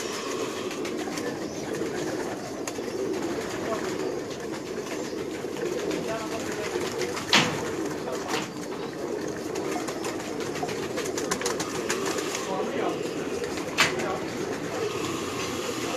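Prince and Jangli breed pigeons coo softly amid a continuous low background rumble, with a couple of brief sharper sounds standing out; someone talks faintly in the background.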